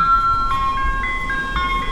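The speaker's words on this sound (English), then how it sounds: "You got the ice cream truck, bro." Ice cream truck jingle playing as a series of bright, steady electronic tones, moderately loud and clear over low rumbling background noise.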